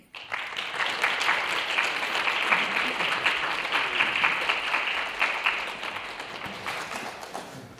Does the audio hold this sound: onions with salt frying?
no